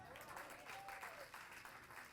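Audience applause at a Hindi poetry recital, a steady, fairly faint wash of clapping that continues evenly throughout.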